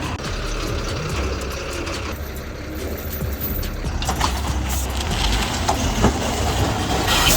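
A truck engine strains while dragging a wrecked police car after an explosion, a rough low rumble that builds gradually and grows louder toward the end, with knocks and scrapes mixed in.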